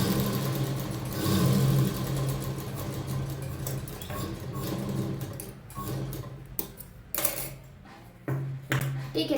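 A sewing machine stitches a tuck on a blouse, its motor whirring with rapid ticking that runs steadily, then stops and restarts in short bursts toward the end.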